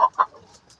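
Yellow Legged Dutch chickens, a hen and a rooster, give two quick, close clucks followed by a couple of fainter, softer chirps in a brief moment.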